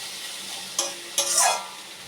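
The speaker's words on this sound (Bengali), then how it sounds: "এই আলুটা আমি দিয়ে দেব" Fried potato drops into a pan of tomato curry and is stirred, two sharp splashing knocks and a brief burst of sizzling over a quiet background, with no voices.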